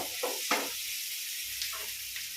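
Tomatoes and snake gourd sizzling in a pan, a soft steady hiss with a few brief stirring scrapes, quiet and close.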